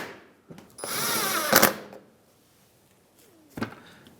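A power tool drives an 8mm bolt into the inner fender liner of a 2007–2015 Mazda CX-9, one close, short whirring burst with a rising whine, framed by faint clicks and a later knock.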